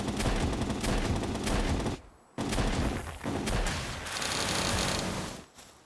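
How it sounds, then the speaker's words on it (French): Assault rifle fire in the video game Palworld, loud, dense bursts of rapid shots that continue almost without a break, with one short pause near the middle and a brief gap near the end. No one talks. "Pourquoi je le fais au fusil d'assaut?"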